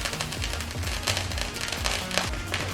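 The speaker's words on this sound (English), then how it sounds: "getting a free fireworks show" Rapid crackling pops and booming bursts fill the air, a dense barrage of July 4th fireworks going off close by with a steady roar underneath.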